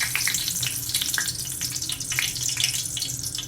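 A scotch bonnet pepper sizzles in hot vegetable oil, a steady crackling fry with bright popping spatters, close and moderately loud with no talking.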